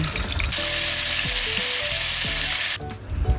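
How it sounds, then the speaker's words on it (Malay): Salted fish sizzles loudly in hot oil, a steady crackling hiss close up, with a few soft scrapes and clinks of a utensil. "kita goreng ikan yang telah digaul dengan garam"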